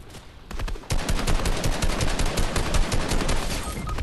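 Rapid automatic gunfire in the video game Fortnite starts after a brief quiet moment and continues in dense, loud bursts of sharp shots to the end.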